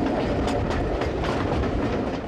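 A live steam train rumbles steadily close by on a UK railway, its wheels clattering rhythmically over the rails in a continuous heavy roar.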